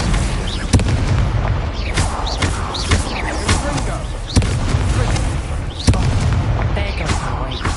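An Incendio fire spell cast repeatedly in a magic school video game, each cast a sharp booming burst with a whooshing tail, several spaced blasts over a loud continuous rumble.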